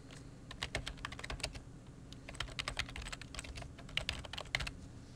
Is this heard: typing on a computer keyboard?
yes